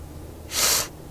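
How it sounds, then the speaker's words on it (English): A single short, sharp sniff through a stuffy nose, a brief breathy rush close to the microphone against a quiet background. "I'm sorry, I don't mean to sniff. My nose is a little stuffy."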